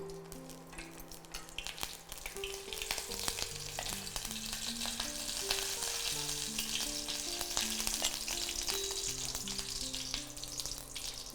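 Oil heating in a pan before a brinjal and onion paste goes in, giving a steady, even crackling sizzle throughout, with background music playing underneath and no speech.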